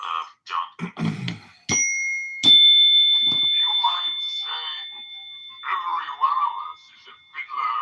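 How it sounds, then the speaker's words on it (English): Bell struck twice in quick succession, each hit ringing out with a bright, sustained metallic tone that slowly fades, with people talking before and after the rings. "Ding the bell, John."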